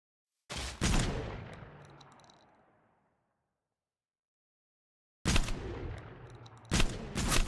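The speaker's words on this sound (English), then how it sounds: "I'm shooting you, die." Video game gunfire comes in loud bursts: two heavy shots with a long decaying echo, several seconds of silence, then more close, sharp shots near the end.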